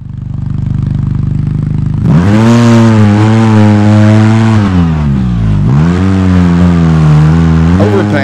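An off-road vehicle drives in the video game Overpass, its engine loud and close, starting from a steady idle and then revving up with rising and falling pitch sweeps as it pulls away.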